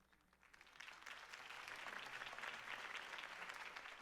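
Crowd applause from the Batman Telltale game after a campaign speech, rising quickly into a sustained, fairly dense clapping that holds steady throughout.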